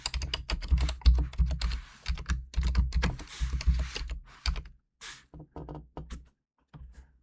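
Close, brisk typing on a computer keyboard in uneven bursts of clacking keys, pausing briefly near the end before a few final taps.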